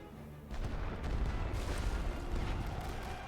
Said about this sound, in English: They're dropping artillery right on my